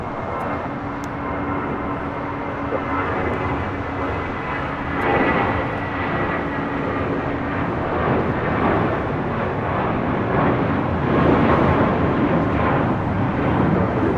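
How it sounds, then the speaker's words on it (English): An Airbus A320 in Brooklyn Nets special livery departing LAX, a steady broad jet engine roar that holds at moderate level with a gradual swell near the end, heard from a distance without talk. "Brooklyn Nets special livery on this A320 next departure"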